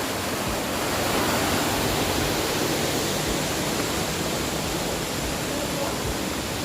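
A spring flows inside Jatijajar cave, its water rushing in a dense, steady wash that stays loud and even throughout with no distinct splashes.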